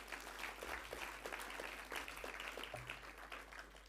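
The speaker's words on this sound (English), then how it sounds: "let's give a round of applause to the panel speakers as well" Panel audience applauding at the close of an evening investment market-outlook session, a steady, moderately faint patter of clapping from a mid-sized crowd lasting throughout.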